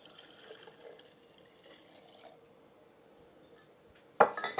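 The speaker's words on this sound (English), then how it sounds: "We dilute it with the water, not cold, not hot." Room-temperature tap water is poured into sweet vermouth to dilute it for homemade vinegar. Only a faint low trickle is heard at first, then a sudden louder splash near the end.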